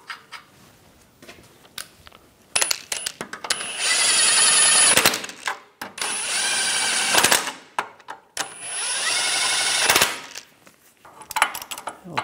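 Ratchet tool working ball joint nuts on the front suspension of a 2010-2014 Volkswagen GTI, with a few clicks, then long bursts of rapid whirring ratcheting near the mic, separated by pauses.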